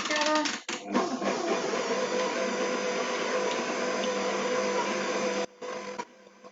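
Vegan cranberry and white chocolate cookie dough being mixed, with a steady, continuous whirring and scraping that fills most of the clip, broken by brief pauses near the start and close to the end.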